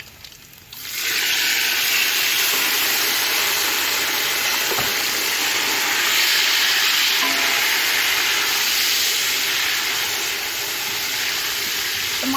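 Tomatoes drop into already hot ghee for a beef yakhni pulao and sizzle steadily while being stirred, a loud continuous frying hiss close up that holds throughout with no talking.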